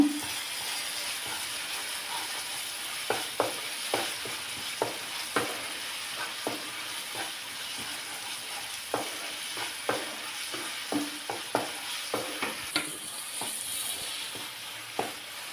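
Ginger paste frying in a pan for prawn and raw mango curry: a continuous hissing sizzle punctuated by regular scraping and tapping strokes of a spatula stirring the mixture.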